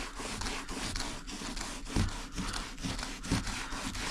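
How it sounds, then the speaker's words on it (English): Sandpaper rubbing over a worn Alcantara car seat on a Subaru STI, a steady scratchy back-and-forth rasp in quick repeated strokes, close and continuous with no talk. "you could go to a finer grit sandpaper and you can go over it again and it'll make this even finer."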